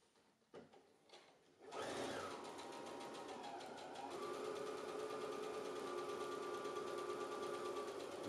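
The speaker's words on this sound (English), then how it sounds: "Let the sewing machine do the work for you." Sewing machine stitching a double welt pocket: a few short clicks and taps, then a steady mechanical whirring hum that runs continuously at moderate loudness to the end, with no talking.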